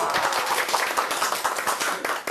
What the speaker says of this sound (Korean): 기쁨의 박수 한번 치겠습니다.